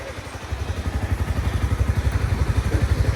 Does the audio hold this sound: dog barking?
no